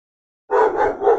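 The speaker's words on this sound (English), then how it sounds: "Sorry, that's my dog." A single dog barking, three quick barks in a short burst after silence, moderately loud and fairly close indoors, no talking.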